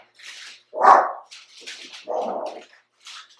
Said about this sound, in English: my dog just came in from his walk,